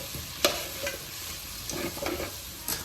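Chicken sizzles steadily as it fries in a pan, with a few sharp clinks and scrapes of stirring breaking through the continuous crackle. No one speaks.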